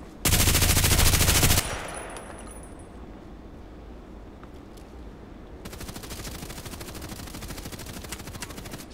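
Loud burst of automatic gunfire in the online shooter Contract Wars, a dense rapid volley at the start, then a quieter stretch and another sustained rattling run of shots toward the end.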